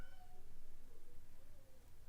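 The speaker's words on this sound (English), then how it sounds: "There goes the cat yelling." A house cat yowls and meows from inside a bathroom, its drawn-out cries rising and falling over about two seconds, moderately loud against a low background rumble.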